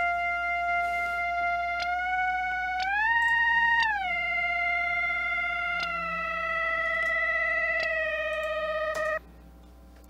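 A clean, dry synth lead plays a single-note melody, sliding smoothly between pitches with gliding portamento, steady and upfront with no effects, ending abruptly.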